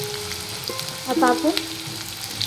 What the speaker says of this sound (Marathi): बघा आपला कांदा फ्राय होतोय